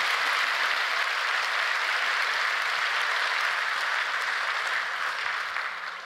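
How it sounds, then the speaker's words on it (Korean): A church congregation at a Friday night worship service applauds in sustained, dense clapping that holds steady for about six seconds before tapering slightly at the end, with no talk over it. "이렇게 막 박수, 나 박수 유도도 안 했는데 이렇게 박수를 쳐주시고"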